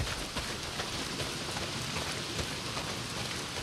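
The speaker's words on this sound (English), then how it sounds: "Well, not if it's pissing down rain." Heavy rain pours down in the video game Days Gone, a dense, constant hiss of drops at an even level that fills the whole stretch with no voices over it.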